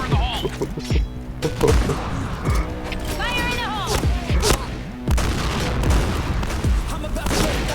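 Gunfire from the online shooter game Point Blank comes as rapid bursts and sharp repeated shots over in-game effects, loud and dense, with a player's voice talking over parts of the action.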